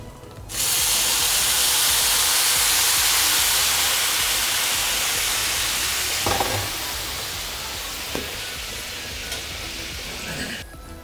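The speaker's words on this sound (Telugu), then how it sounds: "ఇప్పుడు దీంట్లో బెల్లం పాకం వడకట్టుకుందాం." Hot jaggery syrup strained into a pan of roasted coconut filling for steamed kajjikayalu, or Kerala ela ada, sets off a loud, steady hiss and sizzle that starts abruptly, eases slightly over time and carries a few faint clinks.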